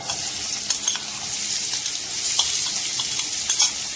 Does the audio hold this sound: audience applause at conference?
no